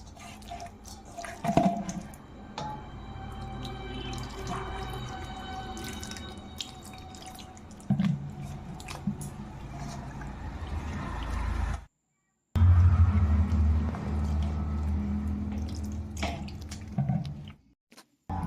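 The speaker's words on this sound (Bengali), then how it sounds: "এখন আরেকবার পরিষ্কার জল দিয়ে আরও ধুয়ে নেব আরও পাঁচ মিনিট ধুবো এটি" Pointed gourds (potol) are rinsed by hand in clean water, with irregular splashes, drips and sloshing close by, briefly dropping to silence before the swishing resumes.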